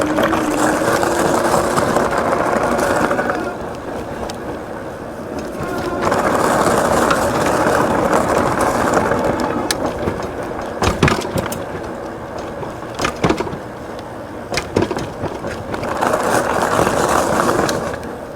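A Buzz Beekeeper cargo electric bike rolls over gravel, making a loud, continuous crunching roar that comes in bursts with brief pauses, broken by a few sharp rattles from bumps.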